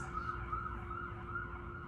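A siren wails steadily in the distance, faint and continuous over a low background hum.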